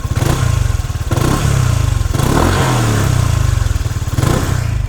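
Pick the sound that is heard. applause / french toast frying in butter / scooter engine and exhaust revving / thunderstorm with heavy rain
scooter engine and exhaust revving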